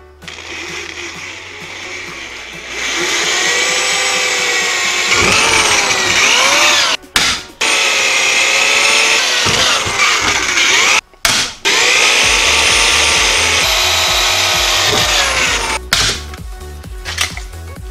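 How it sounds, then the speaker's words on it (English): A power drill whines steadily through most of the clip, drilling through straps into a baseball bat, briefly stopping and restarting a couple of times, loud and close with no talking. "just drill through each one of these straps straight into the bat"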